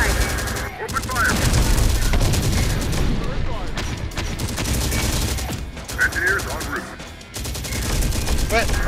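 Gunfire erupts in the real-time strategy game Terminator: Dark Fate - Defiance, with dense overlapping bursts, booms and machine-gun rattle filling the whole stretch alongside game voices.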